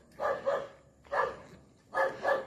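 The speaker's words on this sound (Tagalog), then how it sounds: "Yan yung aso." A dog barks in three separate bursts of double woofs, moderately close and clear against a quiet outdoor background.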